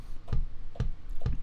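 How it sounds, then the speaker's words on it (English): Three deep, thumping kick drum beats at an even, moderate pace, each a short low punch. "It is the kick drum."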